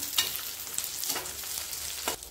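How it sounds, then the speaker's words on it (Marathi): Brinjal pieces frying over a low flame with chopped garlic are stirred in the pan, a short soft sizzle crossed by several quick scraping strokes. "आता एकदम मंद वांग्याची फोड टाकायच्या. व्यवस्थित असं मिक्स करून घ्यायचं."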